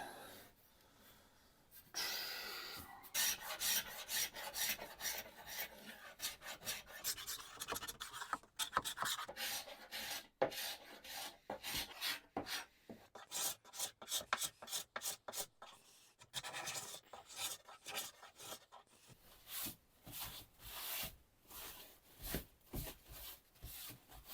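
Scraping an old Victorian wooden table by hand, with steady rasping scraper strokes that repeat in an irregular rhythm and grow sharper and more clipped toward the end; close and fairly loud, with no talking.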